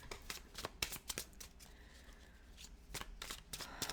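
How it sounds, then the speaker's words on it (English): Tarot cards being shuffled by hand, a run of quick crisp riffling bursts and soft slaps with short pauses between them, close and fairly quiet with no talk. "I'm going to go ahead and shuffle and see what wants to come out"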